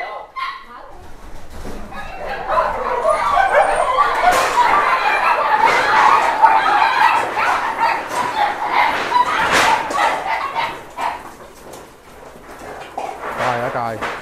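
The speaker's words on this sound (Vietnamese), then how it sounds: "Trời ơi trời, mình chưa thấy đàn chó nào mà ăn kiểu này luôn á" A large pack of starving, emaciated dogs eats ravenously at a feeding, with continuous loud barking, yipping and whimpering all around, close and busy, and some human voices mixed in.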